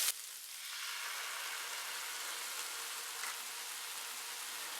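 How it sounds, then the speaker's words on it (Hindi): Bell pepper fries in a pan with a steady, even sizzle that holds unchanged throughout, fairly faint and with no voices over it. "अब इसमें ऐड करेंगे शिमला मिर्च। इसको सिर्फ 1 मिनट के लिए फ्राई करेंगे।"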